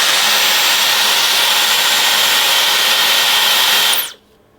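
A Dyson Supersonic hair dryer fitted with a curling attachment blows with a loud, steady, close-up airy whine and rush, then cuts off abruptly near the end, leaving quiet.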